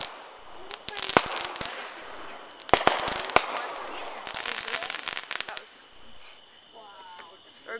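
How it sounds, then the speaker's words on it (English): Fireworks set off on the ground burst in quick clusters of sharp bangs and crackles, loud and close. Crickets chirp steadily underneath, and people talk in the background. "Good fireworks today."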